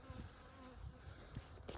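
Honey bees swarm and buzz steadily around a beekeeper during requeening, a dense close insect drone with a few louder low bumps from movement.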